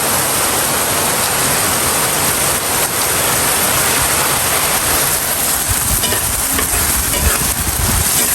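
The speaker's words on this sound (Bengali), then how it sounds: "গাইজ দেখেন কি লেভেলের বৃষ্টি হইতেছে" Heavy rain pours down in a dense, roaring wash of noise, loud and constant with no letup and no voices over it.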